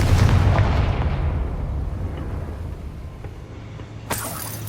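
A Confringo blasting spell explodes in Hogwarts Legacy with a heavy deep boom that decays over several seconds, followed by a sharp crackling burst near the end.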